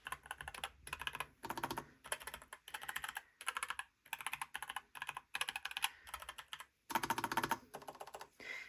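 Typing on a NuPhy Air75 v2 mechanical keyboard, fast bursts of crisp, close clacking keystrokes broken by short pauses, with no voices.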